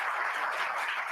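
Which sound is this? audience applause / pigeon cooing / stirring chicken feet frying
audience applause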